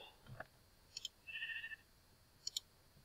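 Brief, faint sheep bleats in Minecraft on PC with small clicking sounds, one longer wavering bleat in the middle over a quiet background.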